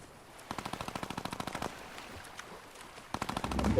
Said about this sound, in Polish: słychać strzały